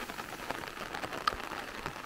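The first rain of the year falls on a farm in Andalusia, Spain, a soft steady patter of drops with a few distinct nearby plinks, fairly faint and continuous without voices.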